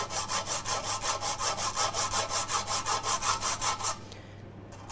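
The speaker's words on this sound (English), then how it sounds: "I've got a microplane here. So I'm just going to take this and gently, like you're filing your nails" A microplane grating hardened chocolate spirulina brittle in steady, rhythmic rasping strokes, about four per second, close and loud, stopping just before the end.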